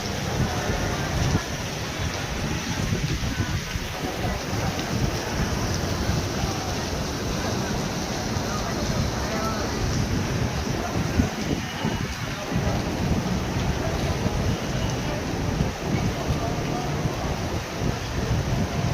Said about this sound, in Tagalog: maulan ang Baguio